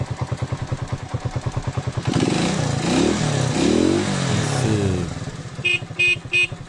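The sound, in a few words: motorcycle engine revving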